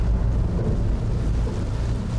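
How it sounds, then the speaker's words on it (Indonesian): Heavy rain pours inside a jungle waterfall gorge in Indonesia, blending with the waterfall's cascade into a dense, steady, low roar that stays loud and constant throughout, with no voices. "Suara hujan ditambah bunyi curahan air terjun bikin suasana makin angker."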